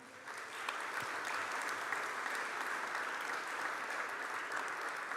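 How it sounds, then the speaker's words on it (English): Sustained audience applause at a sickle cell disease advocacy event, a dense steady clapping from a large crowd that holds at an even level throughout with no speech over it. "Give them a round of applause."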